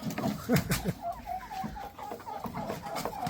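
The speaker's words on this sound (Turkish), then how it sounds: "Renkli toyuqlardır, kənd toyuqları." Colourful village chickens cluck and squawk close by in a farmyard, a burst of loud, busy calls early on followed by softer, repeated clucks.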